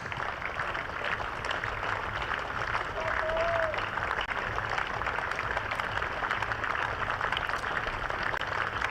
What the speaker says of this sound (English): we'll listen to the applause around Hove for a quite remarkable